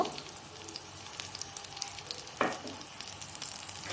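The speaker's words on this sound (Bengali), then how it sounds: "আমি তেলের মধ্যে এগুলো খুব ভালোভাবে ভেজে নিব। আমার পেঁয়াজ মরিচগুলো ভাজা হয়ে গেছে।" Onions and chilies fry in hot oil for a tomato chutney, giving a steady soft sizzle with a brief louder crackle or stir partway through, close and moderately quiet with no talking.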